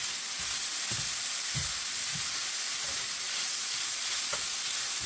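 Food sizzles and browns in a Modern Innovations 10-inch skillet, a steady close frying hiss with a few soft scraping stirs and no talking.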